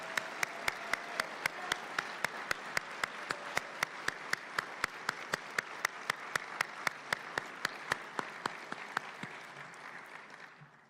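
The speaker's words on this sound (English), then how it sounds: "Let's give one more round of applause to these wonderful graduates." A round of applause for graduates at a hooding ceremony, steady crowd clapping with a dense sustained texture and sharp regular accents, continuing for several seconds before tapering off, with no talking over it.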